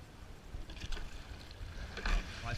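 A junior men's rowing eight moves along the water, with soft rhythmic splashes and oar catches over faint wind and water wash, fairly quiet.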